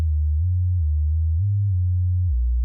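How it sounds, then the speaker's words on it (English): Pure synthesizer sine wave tone playing a low mono legato line, gliding smoothly between a few sustained pitches, steady and clean with no other sounds. "So we have that kind of sound for our sine wave"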